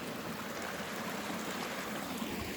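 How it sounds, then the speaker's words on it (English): A creek running along a nature trail, a steady broadband rush of flowing water holding even throughout, close and moderately loud with no voices. "As now we get to another creek of some sort."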